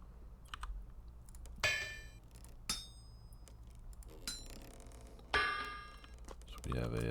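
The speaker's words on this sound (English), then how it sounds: "I'm gonna spend the night hammering out some iron blooms with my trusty little helve hammer here" A helve hammer pounds iron blooms in the Vintage Story video game, giving sharp metallic clangs with ringing overtones at uneven intervals of roughly a second or more, set over a low steady hum with no talk.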